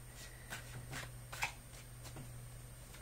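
Tarot cards being shuffled by hand, giving soft, faint riffling and tapping bursts at intervals under a steady low hum, with no talking.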